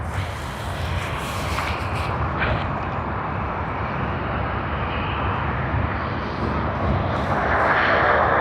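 A Qantas airliner in retro livery at Sydney Airport produces a loud, continuous jet engine roar that holds steady and swells slightly toward the end, with no talk.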